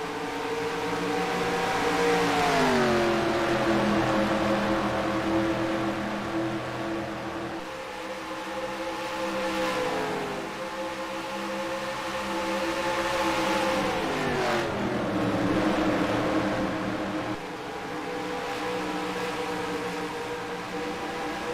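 Race cars roar around a speedway. Their loud, continuous engine drone rises and falls in pitch as they pass, with no talking.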